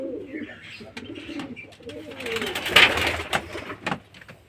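Pigeons cooing in a home loft, soft rolling coos close by that swell and fade with some faint chirps and background shuffling.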